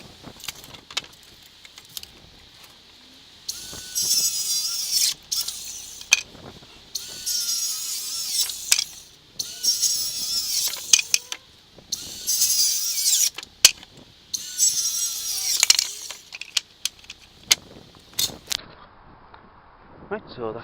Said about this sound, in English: So I'm going to cut these sheets down.